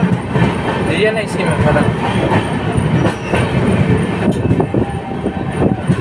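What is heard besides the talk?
passenger train running, crossing the Jaynagar Patna Intercity Express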